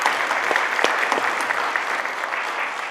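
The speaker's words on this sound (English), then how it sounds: "Give yourselves a round of applause." An audience at a 2018 networking event breaks into steady, sustained applause, a dense wash of many hands clapping together throughout.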